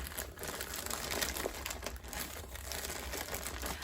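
Plastic mailer packaging of a plus-size clothing mystery bundle being ripped open by hand, with continuous close crinkling and tearing rustles lasting several seconds, no talking.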